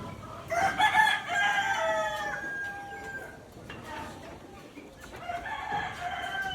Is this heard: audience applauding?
no